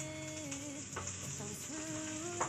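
Pork liver sizzles steadily in a pan as it is sautéed for ginisang monggo, a continuous close frying hiss with occasional stirring scrapes and no voices.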